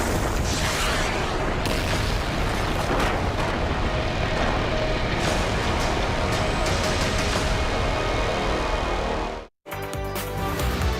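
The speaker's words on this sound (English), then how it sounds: "In complete darkness, you can hear the sounds of blasts in this video." Blasts during a nighttime military strike in the India–Pakistan conflict roar as a dense, continuous barrage of booms and rumbling bursts, loud and sustained, with a brief break near the end.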